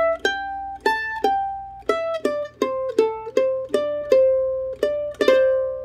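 Solo mandolin plays a phrase of the fiddle tune Billy in the Lowground, with a string rake near the end, a steady run of crisp plucked notes, close and clean with no talking.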